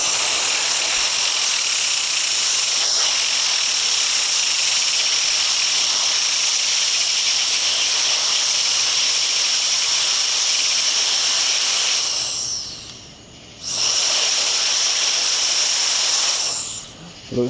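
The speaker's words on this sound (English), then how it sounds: "And get the compressor and run it through here once." Air compressor blowing a steady, loud hiss of air through a tubeless bicycle tire during a Stan's No Tubes setup, running continuously and cutting out briefly near the end before resuming.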